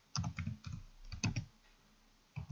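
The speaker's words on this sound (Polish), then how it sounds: "Sobie wpiszemy." Quick bursts of keystrokes on a computer keyboard while an email address and password are entered into a registration form, close and fairly quiet, in two short runs separated by a pause.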